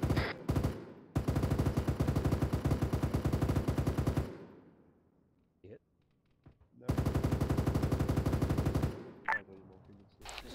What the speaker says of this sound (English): Taking fire from north.